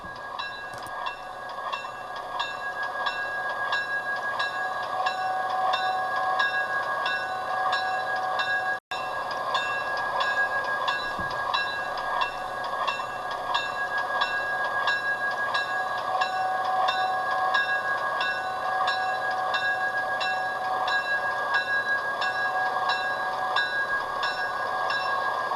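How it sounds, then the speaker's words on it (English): Chicago Great Western GP7 diesel locomotive switching in a Chicago rail yard, a steady droning engine with a bright tonal whine and faint rhythmic clatter holding level throughout, no voices. "we see one of the Great Western GP7s doing switching at the Great Western Chicago yard"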